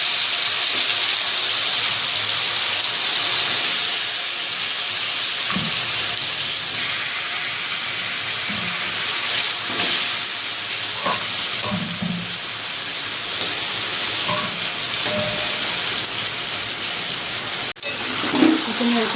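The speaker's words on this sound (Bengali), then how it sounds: "গরম হয়ে গেছে তেল আর ঘিটা, এবার আমি চিকেনটা দিয়ে দেবো" Chicken pieces fry in hot oil and ghee, giving a steady, loud, dense sizzle with scattered pops and crackles that runs for the whole stretch.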